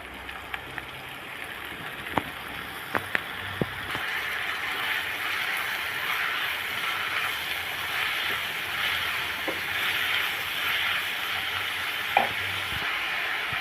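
Amaranth stem greens stir-fried in a pan with ginger-garlic paste, giving a steady close sizzle throughout with a few sharp clinks of a spatula early on and no talking.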